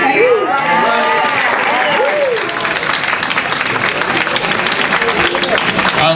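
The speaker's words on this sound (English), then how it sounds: "Give her a nice round of applause" Audience applause at an evening event, dense steady clapping from a crowd filling the room, with a voice talking and some crowd chatter over it near the start.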